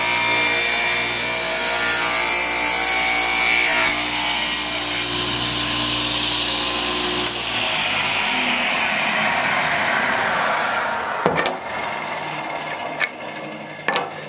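A newly set up Craftsman table saw ripping a 1-inch strip of wood: a loud, steady motor whine with the blade biting through the board, then spinning down near the end, with no talk.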